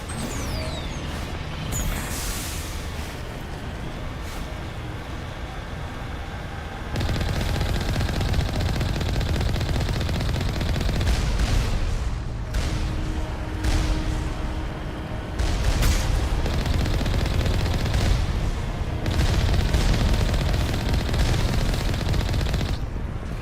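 Turrets firing in the video game Mass Effect: sustained rapid automatic gunfire with dense overlapping shots and booms, loud and continuous, with mechanical clatter and no speech.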